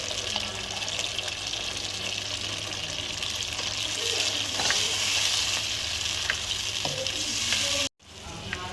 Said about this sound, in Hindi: काफ़ी अच्छे से हमारा मसाला भुन रहा है। हमने इसमें दही और टमाटर की प्यूरी भी डाल दी है।